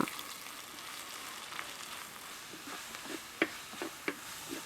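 Onions and whole spices sauté in hot oil, a steady soft sizzle with a few sharp stirring clicks and spatula knocks toward the end.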